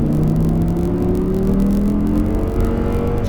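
An Audi R8 engine accelerates on a race track, a loud, steady rising drone with engine tones climbing in pitch throughout, close and continuous with no talk.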